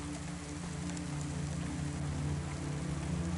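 Rain falls in the city of the video game Cloudpunk, a constant soft hiss of drops over a low rumbling hum, even and unbroken, with no voices.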